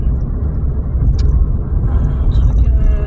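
Car interior while driving: a steady low engine and road rumble fills the cabin, with faint rattles and small clicks over the hum, and a voice speaking at moments.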